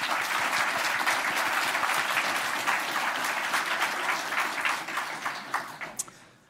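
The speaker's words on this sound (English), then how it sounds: "give him a big and warm applause" Warm applause from a conference audience welcoming a speaker onstage at a games-industry talk, dense and steady clapping that holds full for about five seconds, then thins to scattered claps and fades near the end, with no voices over it.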